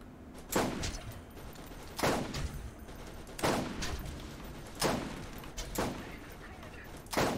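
Gunfire in Borderlands, sharp loud shots in a steady rhythm of roughly one every second and a half, some doubled, each cracking over a constant background rumble of game ambience.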